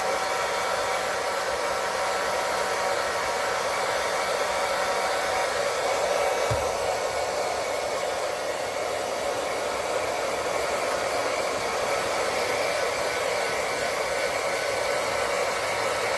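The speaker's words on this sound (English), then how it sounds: "I have a cool button on my hair dryer right here if I hold this." A handheld hair dryer on its cool setting blows a steady, even rush of air close by, drying a polymer clay pendant, with no talking over the noise.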